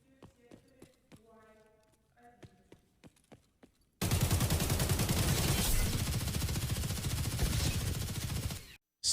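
AK fire in the shooter Escape From Tarkov: after a few scattered single shots, a loud sustained automatic burst rattles for nearly five seconds, then cuts off.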